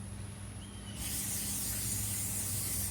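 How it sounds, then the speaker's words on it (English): Spray can of ghee (clarified butter) misting onto meat for smoking, a single steady close hiss starting after a moment of quiet and continuing to the end. "One of my new things I kind of started using was ghee. It's actually spray clarified butter."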